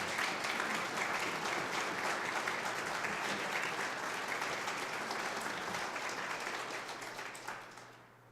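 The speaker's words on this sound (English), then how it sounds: "can we just have a round of applause for Paul and Angelo" A crowd at an oath of office ceremony gives a sustained round of applause for reelected leaders, a dense, even wash of clapping that tapers off in the final seconds.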